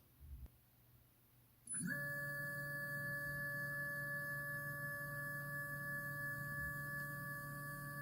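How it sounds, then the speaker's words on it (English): An Anycubic Photon Mono X resin printer drives its build platform along the Z axis, a steady tonal stepper-motor whine starting after a brief quiet moment and holding evenly, close by. "first let's level this platform. So tools, move Z axis"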